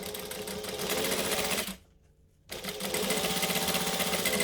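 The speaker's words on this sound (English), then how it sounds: "you're going to do it close to the edge so that you don't see these stitches" A sewing machine stitching a fabric wallet runs loud and steady, stops for under a second, then resumes its fast, even whirring hum.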